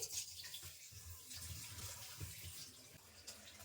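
A whole chicken is rinsed under a running kitchen tap for tandoori chicken, giving soft, continuous water flow with irregular splashes as the bird is turned. The sound is quiet and close, with no speech.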